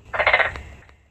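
A frog or toad calls at night from a pond: one loud, close, rattling croak lasting under a second, then fading into quiet.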